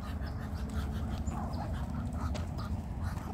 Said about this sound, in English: We got 8 ducks here today.